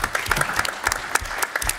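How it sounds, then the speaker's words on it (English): Audience applause welcoming a speaker at a political policy event, lively clapping with distinct individual claps, fairly close and moderately loud throughout. "Round of applause as we welcome Sarah, please."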